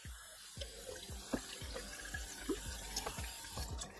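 Water running from a kitchen tap to fill a glass for drinking, a steady close rush broken by repeated splashing drips and small clinks, with no talking.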